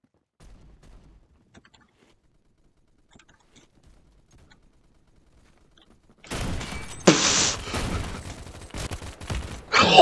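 Gunfire from a weapon in the Phantom Forces video game bursts in loudly after about six seconds of near silence, a dense rapid volley with sharp cracks that continues to the end.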